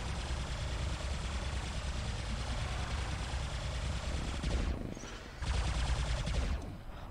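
A MARS robot's turret fires in rapid, continuous bursts over a low mechanical engine hum, loud and sustained, briefly cutting out twice near the end before resuming.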